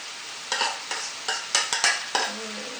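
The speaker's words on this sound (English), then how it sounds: "Now we put the beef back in the beans." Beef and green beans stir frying in a pan: a quiet sizzle under a series of about seven sharp scraping stirs at an uneven rhythm, close and clear, with no talk.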